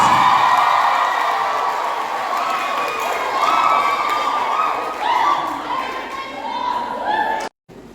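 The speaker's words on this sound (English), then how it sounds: "Give yourselves a round of applause." An audience at a talk on confident communication applauds and cheers loudly, with whoops and shouts over dense clapping that rises and falls before cutting off abruptly near the end.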